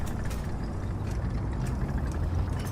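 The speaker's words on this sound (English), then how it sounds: "Now you can hear the other engine off to the left here. It's the Panzer 470." Rumbling Panzer 470 tank engine in War Thunder, a steady low drone running continuously at moderate level off to one side, with faint mechanical clatter riding on top.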